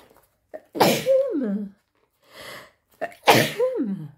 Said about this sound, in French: Atchoum.